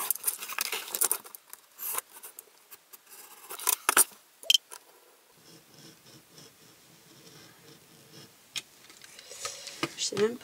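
Scissors snip through paper to cut out a shape for a decorative drawer spice rack with paper dispenser, giving close, crisp bursts of cutting and rustling with pauses between, faint and intermittent, with a person speaking softly at times.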